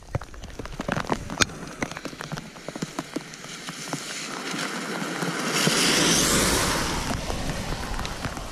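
Steady rain patters on a surface, dense and continuous, swelling louder toward the end with a wash like water or wind.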